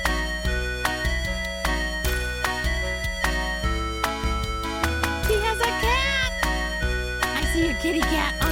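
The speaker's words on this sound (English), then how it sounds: "Kitty cat on the podcast, dancing to the music." Several cat meows in the second half rise above loud, rhythmic music, a few drawn-out tonal cries mixed into the steady beat.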